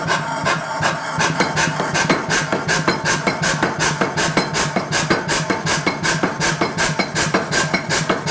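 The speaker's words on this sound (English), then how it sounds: "I'm just going to polish up the square" A forged square taper is polished on steel, probably on a power grinder or belt, giving a steady run of regular rasping strokes about four or five per second. It is loud, close and continuous, with no talk.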